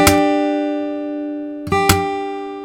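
Guitar notes from a slap-and-strum technique played out of sync: a bright chord rings out, then two separate attacks land close together instead of as one hit, each leaving a sustained ringing tone. No talking.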